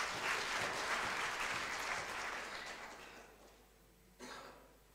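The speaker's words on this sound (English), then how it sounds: "Let's give a round of applause for him." An audience applauds at a church consecration, with clapping that fades out over a few seconds and a brief cough near the end.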